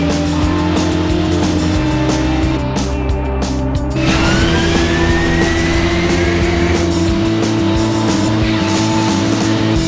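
Car engines roar loudly and continuously, their pitch swelling as the revs climb, with a rising whine sweeping upward partway through, dense and close.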